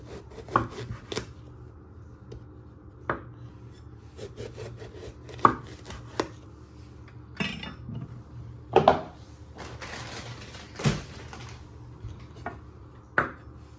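A knife chops the ends off an aubergine on a cutting board, sharp irregular thuds spaced out over a quiet kitchen background.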